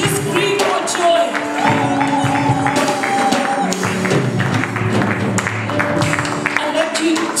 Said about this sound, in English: Just clap your hands. Scream for joy.